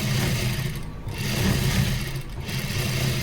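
Sewing machine stitching a blouse, a steady close whirring run with brief dips in speed around each second mark, then resuming its even mechanical chatter, with no voices.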